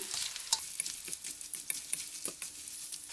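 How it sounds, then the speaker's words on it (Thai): Dried chilies are roasted and fried in oil for Thai nam prik pao, crackling in a light sizzle broken by scattered pops and stirring scrapes, with no one speaking. "เราก็จะเอาพริกลงมา คั่วให้มัน ลงมาทอดนะคะ"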